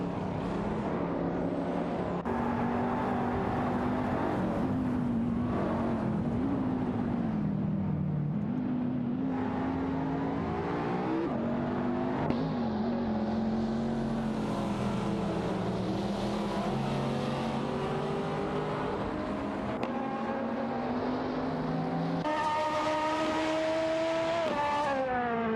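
Race cars in an AI-driven racing video game, including a Ford Falcon FG GT-F 351 and a McLaren 570S battling for position, make a continuous engine drone with rising and falling gear-shift whines, moderately loud and with no talk.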